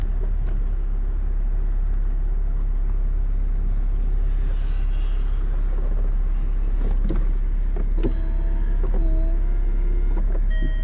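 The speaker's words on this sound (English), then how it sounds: "how fast the convertible top works. Let me demonstrate." A 2014 Jaguar F-Type convertible top opening, heard as a steady low mechanical hum with motor whine and a few clicks and clunks partway through. Wind and background rumble sit under it throughout, and there is no talk.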